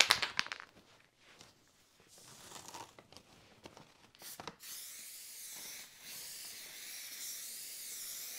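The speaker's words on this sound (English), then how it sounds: "take the spray adhesive and I'm going to spray the fabric" Spray adhesive hisses from an aerosol can onto fabric for a small lampshade, with crinkling handling noises early on and then a long steady hiss.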